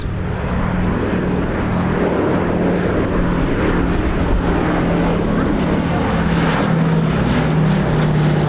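The B-17 Sally B's radial engines drone in a steady, loud, continuous propeller roar at an airshow, with a voice talking over the engine noise throughout.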